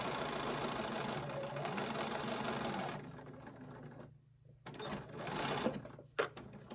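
An embroidery machine stitches an in-the-hoop fabric bowl cozy, a rapid mechanical chatter that runs steadily, then stops and restarts in short bursts, close and alone.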